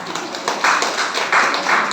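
An audience at a parents' awareness seminar in a school gives a short burst of loud, close applause, with overlapping claps swelling and fading in quick waves.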